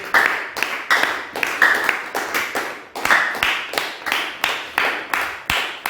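A church audience claps and applauds to welcome a guest preacher, with bursts of clapping repeating steadily and rising and falling in waves, loud and close throughout.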